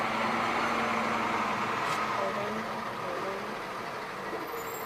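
A truck passes outside, a broad steady engine roar and road noise that stays loud for several seconds before slowly easing off, with a brief hiss partway through.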